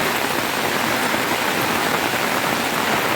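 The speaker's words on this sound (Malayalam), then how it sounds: "ഒരു രക്ഷയില്ലാത്ത മഴ." Heavy downpour pouring steadily outdoors near tea estates, a dense, loud, unbroken hiss of rain hitting surfaces without pause.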